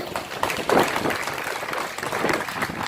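Audience applause fills a hall at St. Peter's School annual general meeting in Mazgaon, Mumbai: dense, steady clapping from many hands, sustained at an even level for the whole stretch.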